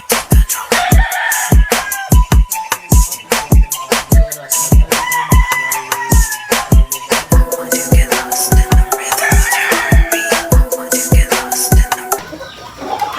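A pure Papay Gray gamefowl rooster crows repeatedly at a game farm, its loud, close calls mixed with other roosters crowing and clucking nearby, while sharp regular clicks or taps recur throughout.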